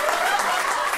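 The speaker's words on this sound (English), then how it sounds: "You guys can clap" Sustained applause from a stand-up comedy crowd, a steady dense wash of clapping that fills the whole moment without pause.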